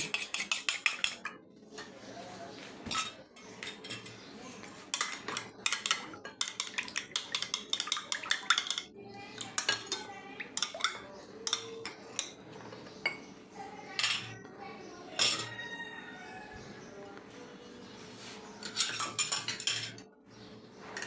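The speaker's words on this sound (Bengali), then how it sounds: "একটা ডিম আমি ডিমটাকে পেটিয়ে নিচ্ছি" An egg being beaten with a spoon in a bowl while preparing patishapta pitha, a rapid run of bright metallic clinks and scrapes against the bowl, close and steady with brief pauses, no talking.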